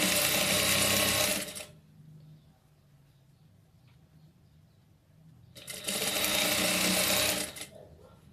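Domestic sewing machine running two loud close bursts of rapid stitching along a dress seam, with a quiet pause of several seconds between them and no talking.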